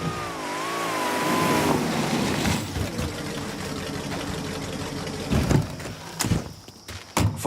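A car engine warming up in Mafia 3 on a bayou road, a steady idling rumble with a rising rev early on, followed by a few sharp knocks and clunks near the end.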